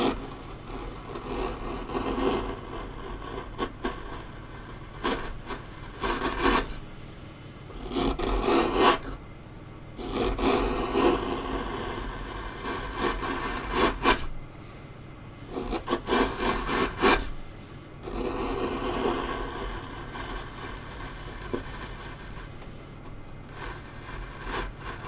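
Rasping on a carved wooden dragon: rough, scratchy strokes come in irregular bursts with short pauses, close and moderately quiet, with no talking.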